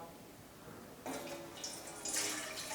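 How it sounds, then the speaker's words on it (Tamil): Two cups of water pour into a cooking pot close by, a soft splashing stream that starts suddenly and swells briefly before continuing. "அந்த பாத்திரத்தில் 2 கப்பு தண்ணி சேர்த்துக்கலாம்."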